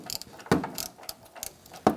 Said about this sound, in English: so now we can tighten up this top bolt